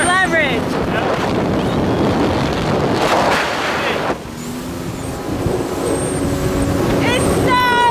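Strong wind buffets the microphone during a Sea-Doo ride at a cottage, a loud, steady roar over engine and water noise, with voices shouting and talking over it throughout.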